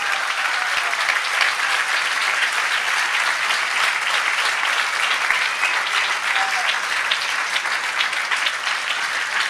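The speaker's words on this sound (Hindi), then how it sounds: "जिनको समझ आएगा जोर से ताली बजाएं, जोर से, और जोर से," At a pastor's church gathering the congregation claps loudly and continuously, a thick, even roar of hands that stays strong from start to finish with no speech over it.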